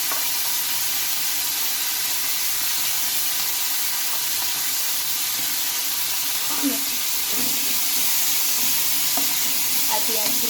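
Garlic, green chili and onion fry alongside potatoes for a drumstick-leaf dish, giving a steady, full sizzling hiss that holds throughout, with a few faint stirring knocks near the end.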